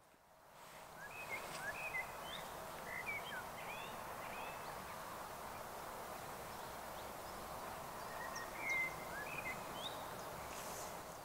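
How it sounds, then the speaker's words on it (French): Several birds sing in the open countryside, their scattered chirps and whistles ringing out at a moderate distance over a faint rustling background, with no one talking. "On va essayer de repérer et compter le nombre d'oiseaux différents qui chantent autour de nous."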